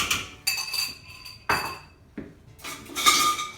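A metal fork stirs yogurt starter into milk in a pot, making a handful of sharp, separate clinks against the pot's sides with short quiet gaps between strikes.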